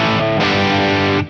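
Electric guitar played through a Friedman IR-J Jake E Lee signature valve preamp pedal with the bright switch pushed down, giving a Marshall Plexi-style crunch; a loud, sustained distorted chord rings close for about a second, then cuts off.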